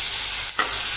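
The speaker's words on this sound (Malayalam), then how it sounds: "നമ്മളതിന സവോള നല്ല അടിപൊളിയായിട്ട് വാട്ടിയോണ്ടിരിക്കാണ്" Onions sautéing in a pan for a special egg roast: a loud, continuous close sizzle and hiss, briefly broken by a stirring clatter midway.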